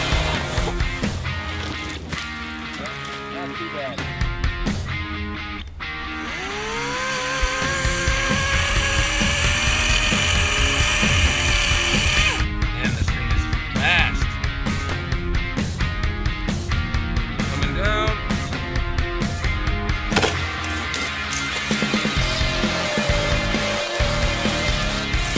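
EGO 56V battery chainsaw cutting tree branches: a whining electric motor revving up and sustaining through cuts, pitch dropping under load, with intermittent pauses and mechanical clatter, close by.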